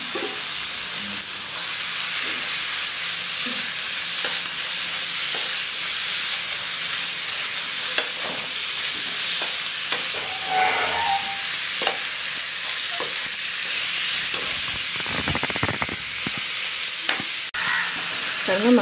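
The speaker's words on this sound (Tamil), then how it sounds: "இப்போ வந்து இந்த காடையை சேர்த்துறேன்" Quail pieces frying in a spicy masala for kaadai chukka give a loud, continuous sizzle and hiss close up, with frequent scraping stir strokes against the pan throughout.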